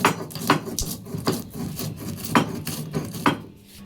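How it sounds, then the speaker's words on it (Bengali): Spices being ground by hand on a stone slab (shil) for a vegetarian paneer masala, a rhythmic rasping rub with steady strokes about every half second, close and alone. "এবার আমরা এগুলো শিলের মাধ্যমে বেটে নেব।"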